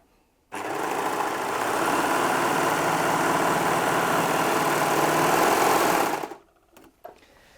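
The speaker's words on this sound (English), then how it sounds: "this is a piece of cotton jersey, and I'm just going to put that under the foot and sew." A Baby Lock Desire 3 overlocker sews cotton jersey in one loud, steady run of fast whirring stitching lasting about six seconds, stopping abruptly, with a few faint handling knocks afterward.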